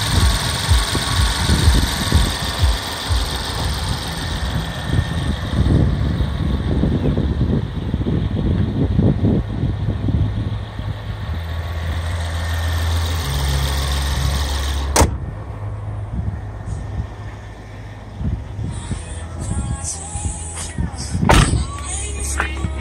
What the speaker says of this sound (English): the Rolls Royce Ghost is equipped with a twin turbo V12.